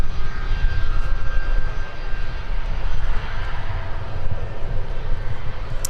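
Delta 170 heavy, a jet airliner holding on taxiway Whiskey at MSP airport, gives off a loud, steady engine roar and drone that fills the whole stretch with no voices.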